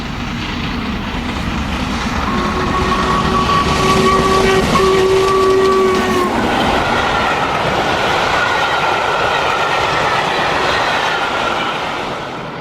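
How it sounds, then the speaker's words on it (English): Steam locomotive 5690 Leander hauls the St Nicholas Steam Fair Special past Sherburn in November, a loud steady roar and rumble of the passing train with a long whistle sounding partway through. "In November 2009, the loco passes Sherburn with the St Nicholas Steam Fair Special."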